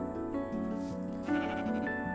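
Sheep bleat in Minecraft gameplay, several short wavering bleats in succession, fairly clear and moderately loud over a soft, sustained ambient music background.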